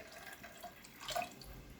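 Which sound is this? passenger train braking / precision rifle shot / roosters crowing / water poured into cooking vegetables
water poured into cooking vegetables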